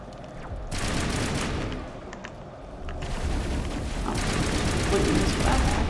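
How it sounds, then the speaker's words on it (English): Shotgun gunfire in the video game Mass Effect, dense overlapping blasts and booms forming a loud, continuous barrage of combat noise, with faint talk mixed in. "Let's go into shotguns. Get that firepower going."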